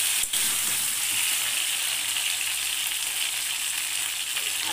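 Fresh fish fries in a pan for a home-style fish curry, giving a steady, loud, hissing sizzle throughout, with a single soft knock near the start and no talking.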